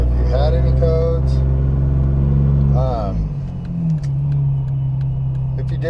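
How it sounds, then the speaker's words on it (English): A car on a test drive after a cheap repair gives a steady low engine rumble. A voice talks over it at first, then the motor hum continues alone. "Now we can take it for a little test drive."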